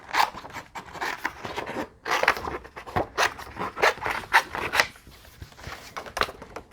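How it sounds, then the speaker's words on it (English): Scissors snip through paper while cutting out simple ghost shapes for a handmade Halloween card, giving a series of quiet, crisp crunching cuts in short irregular bursts with brief pauses between them. "Now let's go ahead and cut out these ghosts."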